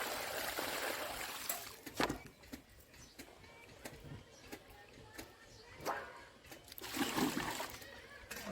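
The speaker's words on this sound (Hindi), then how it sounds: "ये पानी गंदा वाला पलट देंगे और दोबारा से साफ पानी में फिर धुलकर रख देंगे" Dirty wash water poured out of a vessel after washing, heard as a few quiet splashes and trickles at intervals, with the strongest spill near the end, in a soft, low-level setting.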